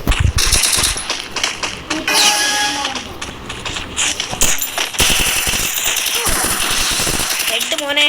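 A Dimitrios scoped gun fires in a video game in rapid bursts of sharp shots, mixed with game sounds and a voice talking over them.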